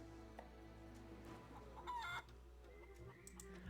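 Chickens cluck softly in the video game The Curse of Monkey Island, a few short faint calls and one brief louder squawk over a quiet, steady background hum.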